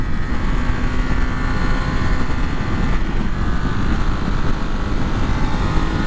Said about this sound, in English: Hopefully you don't hear too much wind noise.